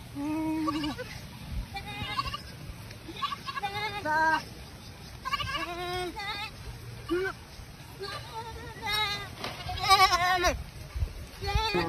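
Goats on a farm bleating repeatedly, several wavering calls overlapping at close to moderate distance, with people talking and shouting in the background.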